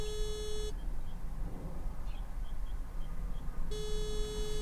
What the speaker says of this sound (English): it's just buzzing, so nobody's picking up